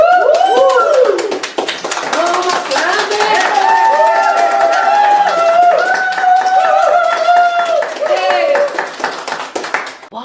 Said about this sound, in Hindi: हम आप सबके लिए तालियां बजाएंगे एक साथ